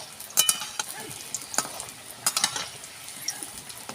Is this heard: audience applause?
no